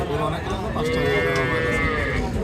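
Cattle at a market selling Holstein Friesian bull calves give a drawn-out moo amid a steady crowd din, close and fairly loud.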